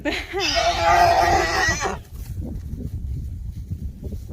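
A pony newly introduced to an established herd gives a loud, deep throaty vocalisation lasting about a second and a half, harmonic and wavering, followed by quieter low rumbling and field noise.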